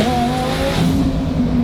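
A pink-wrapped twin-turbo Lamborghini Huracan of about 1000 hp accelerates hard, its engine droning loud and close with a rising pitch throughout a short burst.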